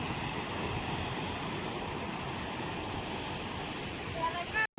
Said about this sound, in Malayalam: വെള്ളച്ചാട്ടം.